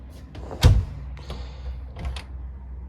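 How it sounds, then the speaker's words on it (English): A door inside a 2022 Salem Hemisphere 286RL 5th wheel RV opens with a sharp thunk followed by light knocks and rattles, close by in a quiet interior. "And that's about as far as the door opens because it hits the bed into the bedroom."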